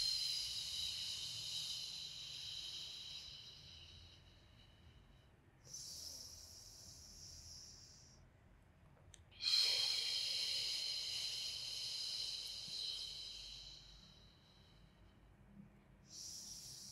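A breathy exhale during a beginner Pilates exercise, soft hissy air bursts that come and go over about seventeen seconds, close and fairly faint with no talking.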